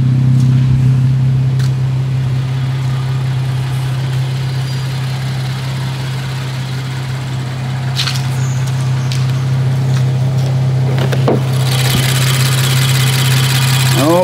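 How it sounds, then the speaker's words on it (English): A 2018 Infiniti Q60 twin-turbo V6 idles with a steady, loud low drone that holds evenly throughout, with a few brief clicks and a rise in hiss near the end. "Oh boy, it's a powerful engine."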